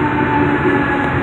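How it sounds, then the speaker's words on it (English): A train rumbles in a steady, loud, dense roar of wheels and engine noise with no breaks, heard up close as from on board. "you know, the train stopped at the signals"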